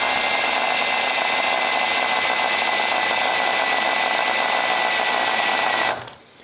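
A power drill spins a Triumph Spitfire differential during a rebuild at about 1700 RPM, producing a loud, steady whine with gear noise that holds for six seconds before winding down and stopping.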